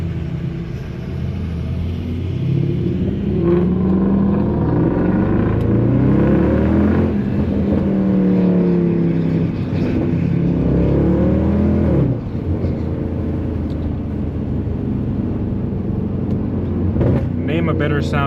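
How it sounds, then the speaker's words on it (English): A 2009 Mercedes C63 AMG V8 revs and accelerates hard from inside the cabin with the rear seats folded down, a loud, deep exhaust roar rising through the gears, while a person talks over the engine. "Name a better sounding V8."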